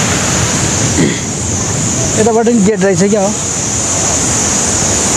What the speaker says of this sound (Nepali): पानी हुलुलुलुलुलु आइरहेछ